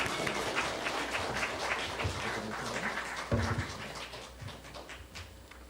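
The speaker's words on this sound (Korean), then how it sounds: "우리 선교사님 나올 때 박수로 환영하겠습니다." A church congregation applauding to welcome a missionary, sustained clapping from a crowd at moderate distance that slowly tapers off.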